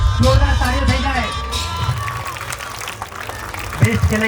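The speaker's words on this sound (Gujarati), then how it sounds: "જોરદાર તાળીઓ થઈ જાય." An audience at a live costume-competition prize event in Nadiad claps and cheers for winners, a dense, loud burst of applause that fades under an amplified announcer's voice.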